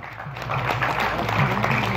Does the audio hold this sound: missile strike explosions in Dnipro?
no